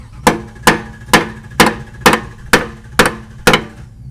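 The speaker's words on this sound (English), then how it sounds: "Worst comes to worst, hit it with a hammer." Eight sharp, evenly spaced hammer strikes ring out close by on a car part, a little under half a second apart, each a crisp metallic whack with a brief decay and nobody talking.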